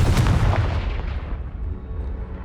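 Confringo blasting spell explodes in the Hogwarts Legacy video game: one loud booming blast that rolls off into a long, fading rumble, with no voices.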